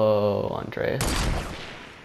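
A voice is heard, then a sharp, loud burst of gunfire erupts in a Fortnite match and rings out briefly through the game's sound.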